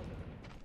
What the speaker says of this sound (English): hear those cannons go, or those guns?